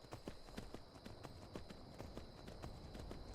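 Steady clip-clop of horse hooves in Skyrim at an even trotting rhythm, crisp and fairly close, with a faint high tone running underneath.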